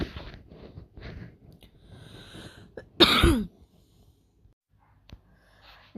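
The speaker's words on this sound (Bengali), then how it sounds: "তো ভিডিওর মাঝে মধ্যে আমার কাশিটা হচ্ছিল আর কি" A single sharp cough bursts out near the middle, loud and close, amid quiet breathing and faint throat sounds.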